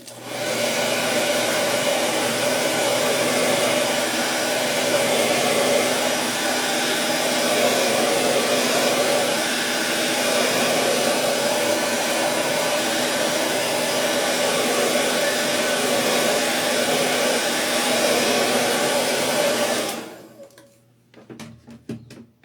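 A hair dryer drying paint on a tray, a loud steady blowing whir that runs for about twenty seconds and then shuts off with a brief rattle.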